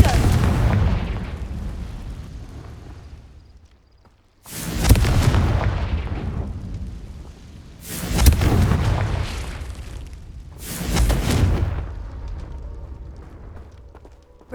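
Confringo blasting-curse explosions in the video game Hogwarts Legacy, four loud, deep booms a few seconds apart, each rumbling and fading out with debris-like crackle.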